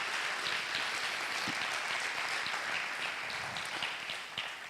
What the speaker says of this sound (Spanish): dale un fuerte aplauso a Jesucristo por esa gran verdad